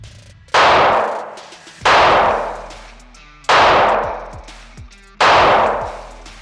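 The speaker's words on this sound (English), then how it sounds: "let's go ahead and take a few shots and confirm 0" Four evenly spaced, loud rifle shots fired while testing a Cyelee Chameleon SRS8 optic, each a sharp close crack with a short decaying echo, and no talking between them.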